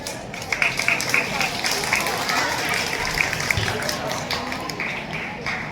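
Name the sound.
audience applause for class 7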